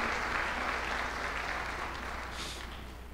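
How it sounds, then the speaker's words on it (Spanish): Steady applause from a church congregation welcoming a pastor at a Sunday morning service, dense and sustained clapping at an even level throughout. "te queremos enviar un aplauso de bienvenida"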